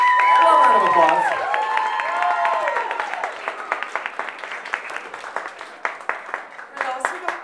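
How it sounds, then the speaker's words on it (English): Wedding reception guests applaud and cheer for the matron of honor, with whoops and shouts over dense clapping at first, then thinning into scattered individual claps as the crowd settles. "A round of applause."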